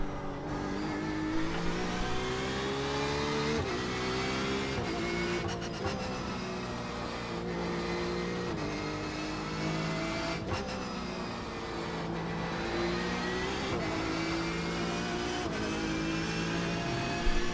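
Porsche 911 RSR GTE race car engine in iRacing at the Nürburgring, a steady low-rpm drone with stepped shifts and brief revving swells, close and continuous with no talk.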